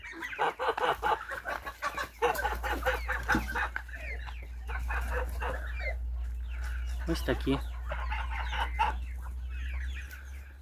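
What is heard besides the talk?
chickens clucking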